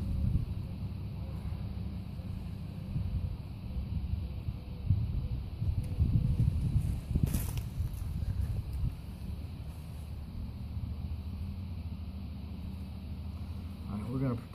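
Steady low rumbling wind buffeting the microphone throughout in a backyard, with a brief gustier stretch midway, under faint speech.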